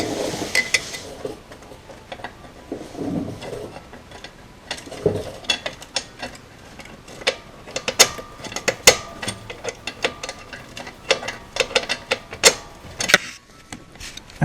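Ratchet clicks and metallic tool noises ring out irregularly as an alternator bolt is tightened on a 2006 Kia Sedona, close and sharp, with no talk.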